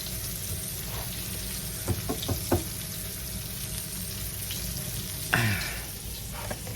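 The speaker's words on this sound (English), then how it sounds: "while those are getting browned" Boneless pork chops brown in a pan with a steady, close sizzle throughout. A few light clinks sound, then a louder knock and scrape of cookware near the end.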